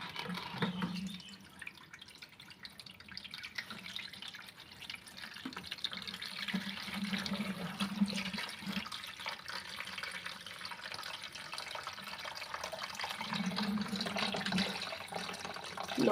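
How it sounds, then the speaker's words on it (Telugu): Dirty water drains out of a top load washing machine tub during a home repair, a continuous close splashing and trickling flow with intermittent low gurgles, steady in level throughout. "వాటర్ ఎట్లా బయటకు వస్తాయి చూడండి"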